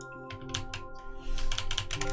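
Computer keyboard typing in Milk Inside a Bag of Milk, quick clattering keystrokes in two bursts, a few scattered taps then a faster run, close and clear over a soft sustained musical tone.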